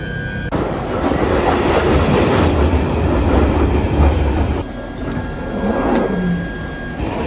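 London Underground train running, a loud rumbling roar with rattling wheel clatter and a faint high whine, steady throughout with a brief dip midway.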